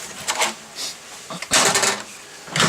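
An RV exterior storage compartment door being propped open with its supplied door holder, giving a few short woody clicks and knocks in bursts, with a louder clatter midway and another near the end, close by.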